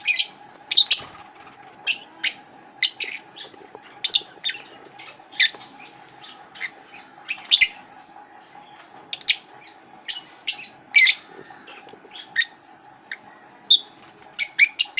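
Lovebirds in a cage give sharp, high chirps in scattered short bursts over a faint steady hum, clear and fairly close, with no voices.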